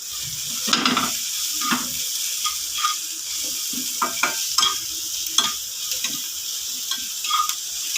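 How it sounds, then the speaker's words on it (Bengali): Mixed vegetables frying in a pan, a steady hiss of sizzling under repeated close clicks and scrapes of a spoon stirring, with no talk. "সবজিগুলো যখন হালকা হালকা ভাজা ভাজা হয়ে যাবে"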